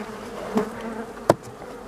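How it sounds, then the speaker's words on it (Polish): Honey bees buzz inside a beehive, a low steady hum close by with a couple of brief sharper knocks or bumps, and no one speaking. "No coś tych pszczółek siedzi w ulu."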